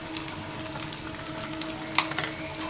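Turmeric and cumin powder fry and get stirred in a pan for a drumstick flower curry. A steady close sizzle runs throughout, with a brief sharper scrape near the end.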